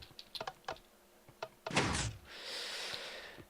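Wooden doors in a Minecraft Feed The Beast modpack base, opening with a short burst of clicks followed by a louder sliding swish and a sustained mechanical hiss, heard close and alone.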